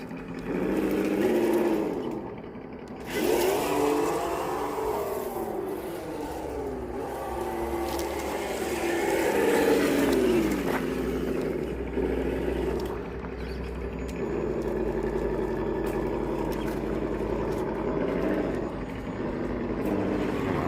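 A radio-controlled car runs at speed, its electric motor giving a continuous high whine that rises and falls as it accelerates and eases off, steady and fairly close for about twenty seconds without talk.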